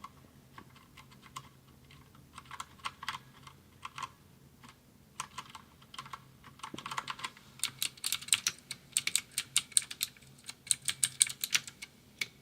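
Typing on a Durgod TKL mechanical keyboard with clicky Cherry MX Blue switches, close and bright clicking in uneven bursts, sparse at first and then fast and dense, with no talking.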